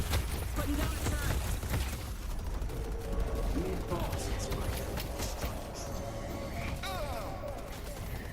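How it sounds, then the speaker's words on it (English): Automatic turret gunfire in a team-based shooter video game, rapid bursts crackling under a noisy firefight with mechanical clatter, players chattering over the action throughout. "Putting down a turret."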